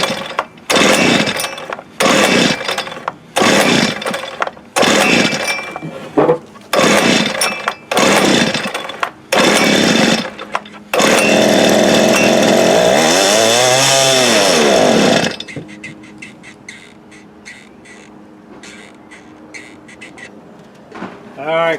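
A 1983 Toro TC 300 trimmer engine without a carburettor is pull-started again and again: loud rasping cord yanks in quick bursts, a brief sustained whirring sputter, then a quieter pause, with a voice heard nearby.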